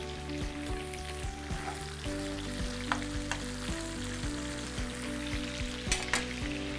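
Tomatoes sizzle and fry in hot oil in a pan while kebab is cooked, a steady close crackle with small pops and occasional clatters, no talking.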